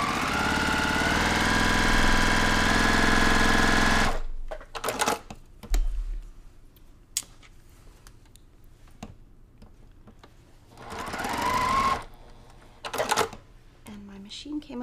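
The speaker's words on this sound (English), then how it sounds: "I'm just gonna stitch on those four lines real quick" A sewing machine stitches four lines on a quilt block, a loud dense mechanical whir for about four seconds, then stops, followed by scattered clicks and a second short burst of running.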